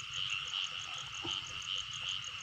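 Field frogs call in a flooded rice paddy in the rainy season, a steady chorus of high, rapidly pulsing trills repeating continuously at moderate distance, with no voices.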